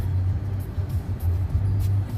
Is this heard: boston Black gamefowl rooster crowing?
no